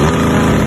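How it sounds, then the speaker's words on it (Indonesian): A Honda CB motorcycle with a rusty custom build idles loudly and close after starting, its exhaust giving a steady low throbbing drone for a brief moment. "Jadi itu dia guys, suara ataupun motor ketika dinyalain."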